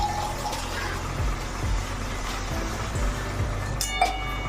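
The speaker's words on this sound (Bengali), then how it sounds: "একটু জল দিলাম" A little water is poured into a pot of cooked food on the stove, a steady close wash of splashing and trickling with a few soft clinks and no voices.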